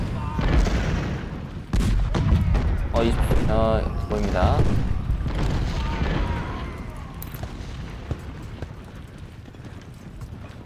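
Cannon fire booms in the Civil War strategy game Ultimate General: Civil War, with several artillery reports and a rumbling battlefield din running beneath continuous talk from a man.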